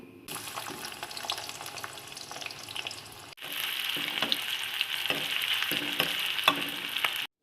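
Boiled mushrooms and potatoes sizzle in hot oil in a kadai. A moderate frying hiss jumps to a louder, denser crackle about halfway through, with light stirring scrapes and no voices.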